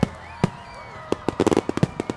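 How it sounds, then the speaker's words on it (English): Fireworks burst over Lake Carolyn on a mild Texas evening, a rapid series of sharp cracks and booms, some clustered quickly together, with faint crowd sounds between. "fireworks lit up the sky"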